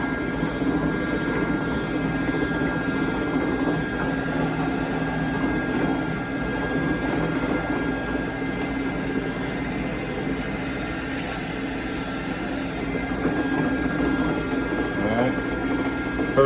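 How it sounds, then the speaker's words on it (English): A drill runs steadily and loudly, boring holes in a crankbait belly weight mold, a constant machine drone that holds for the whole stretch. "Now we can go ahead and kick this on and get these holes here drilled"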